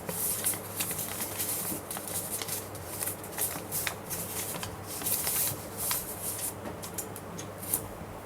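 Paper being creased and folded for an origami flapping bird, a close, continuous crinkling and rustling with quick crisp flicks throughout.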